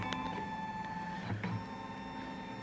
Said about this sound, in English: the machine's going to scan the frame, and everything that's in the frame is going to come up on the screen